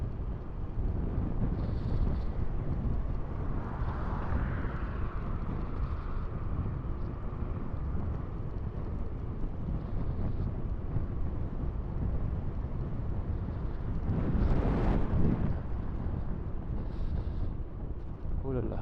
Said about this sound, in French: Alors là, on a du vent de face par contre, hein.